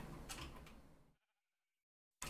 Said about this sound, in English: Because there's a sheep inside here